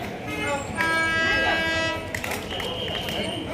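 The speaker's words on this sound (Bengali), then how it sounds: "সেই টয় ট্রেন এখান থেকেই দার্জিলিং যায়" Darjeeling toy train at the hillside Kurseong railway station, its horn blaring in a sustained tone over a steady rumble of the cars, close and loud, with voices murmuring around it.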